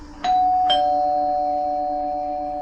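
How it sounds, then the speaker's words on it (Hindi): A doorbell at a clinic door rings with two bright electronic chime notes a split second apart, then a clear tone hangs and slowly fades. "उसने दरवाजे के बाहर घंटी का बटन दबाया।"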